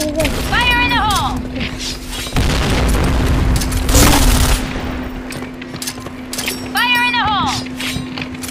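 Booming blasts and gunfire from a Point Blank online shooter match, with a deep explosion rumbling through the middle, beeping game tones and ongoing voice lines over steady battle noise.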